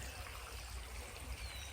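Liquid fertilizer pours in a steady trickle into a container of annuals like Supertunias, a soft continuous stream under low background rumble.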